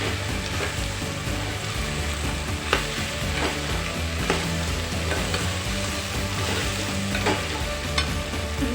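Cauliflower and potato pieces being mixed with turmeric, coriander and chili powder in a pan, continuous sizzling under repeated spoon scrapes and clinks at an uneven rhythm, close and clear, no one speaking.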